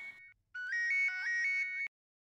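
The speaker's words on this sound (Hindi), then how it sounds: "मेरा फोन आया।" A mobile phone ringtone for an incoming call, a bright electronic melody of repeated rising notes after a brief opening chime, loud and close, cut off abruptly when the call is answered.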